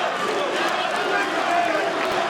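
Spectators at a Karate Combat fight cheering and shouting steadily for the local fighter, a dense, loud wash of many voices with no pauses.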